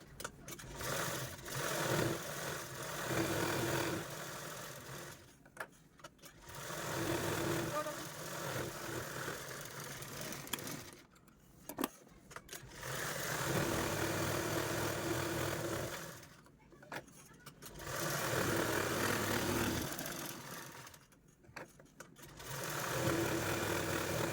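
A sewing machine quilts layered fabric for a blouse cover, running in long steady bursts of stitching with brief pauses between runs. It sounds close and moderately loud.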